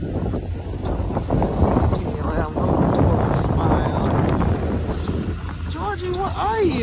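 Blustery wind roars against the microphone, loud and continuous, while people talk and a voice rises near the end.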